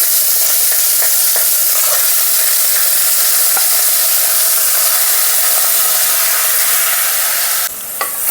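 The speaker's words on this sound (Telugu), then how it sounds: "ఆయిల్ హీట్ అయ్యాక మనం కడిగి పెట్టుకున్న మటన్ని వేసేసుకోవాలండి" Washed mutton pieces dropped into hot oil in a home kitchen, giving a steady loud sizzle and hiss with light stirring scrapes and a brief clatter near the end, no talking.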